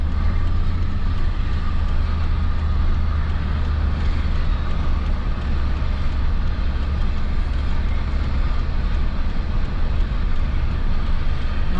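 Continuous loud rumbling road noise with a low grinding drone from a car wheel, steady throughout with no voices.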